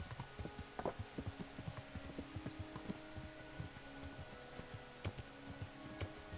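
Rhythmic hoofbeats of a galloping horse in the video game Kingdom Come: Deliverance clatter along at a quick pace, steady and fairly close, with faint ambient noise and no talking.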